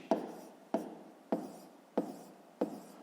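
A pen scratches across paper in five evenly spaced, short strokes, close and clear with no talking, as numbers are written by hand during a fifth-grade math exercise.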